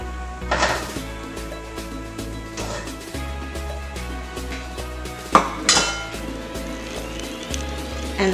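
Kimchi fried rice being plated, with irregular clinks and knocks of a utensil against dishes and a pan, plus a couple of sharper clatters, close by.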